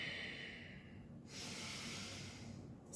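A slow, breathy inhale during a gentle power yoga pose, a faint airy hiss that swells midway and holds steadily, heard close and quiet with no talking.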